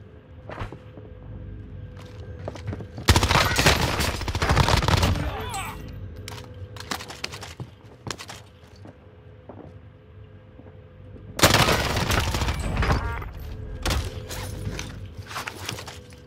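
Gunfire in the Call of Duty Warzone video game: two long, loud bursts of rapid automatic fire, several seconds apart, with scattered single shots and mechanical clatter between them.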